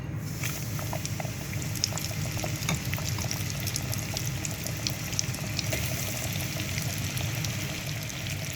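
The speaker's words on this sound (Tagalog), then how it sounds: "Pwede na siguro i-fry ang ating chicken." Chicken pieces fry in hot used cooking oil, a dense steady sizzle with scattered crackles and pops, continuous and close.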